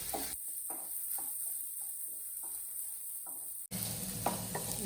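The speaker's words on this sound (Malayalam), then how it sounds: "മഞ്ഞൾപ്പൊടി ഇട്ട് കൊടുത്തിട്ട് നന്നായിട്ട് നമുക്ക് ഇളക്കി കൊടുക്കാം" Potatoes fried with turmeric powder in a pan are stirred, giving a close run of scraping, rhythmic spoon strokes over a steady sizzle, with a brief break before the frying noise swells again.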